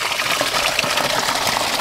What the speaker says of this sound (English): Filling the drum up nicely.